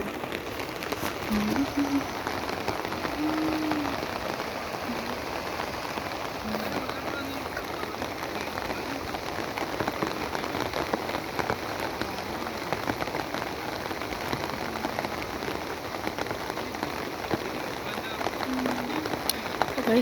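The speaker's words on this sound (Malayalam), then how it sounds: "മഴ നന്നായിട്ട് പെയ്യുന്നുണ്ട്" Heavy rain pours steadily beside a flooded stream and paddy fields, a dense continuous hiss of drops striking surfaces at close range that holds at an even, loud level throughout with no break.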